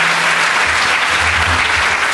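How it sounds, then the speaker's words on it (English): Conference audience at a DEF CON security talk breaks into dense, loud applause, a continuous crackle of many hands clapping close by for the full two seconds with no voices over it. "You just clap because I told you to."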